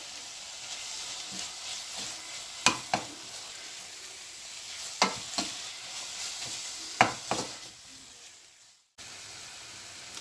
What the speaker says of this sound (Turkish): Bir yemek kaşığı kadar da tereyağı ekleyip birazcık da bu şekilde kavuracağım.